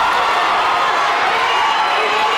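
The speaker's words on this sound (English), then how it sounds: "The crowd is going absolutely bananas here." A large crowd at an MMA fight roars and screams continuously, a loud dense wall of cheering with no break.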